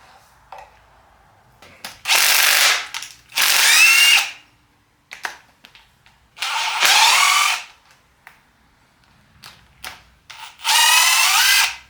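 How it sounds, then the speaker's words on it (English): Power tool bursts, likely an impact gun on a 12 mm socket, break loose engine bolts during crankshaft removal: four loud whirring bursts of about a second each, separated by quiet gaps with small clicks. "I'm going to break these loose with a 12 millimeter socket."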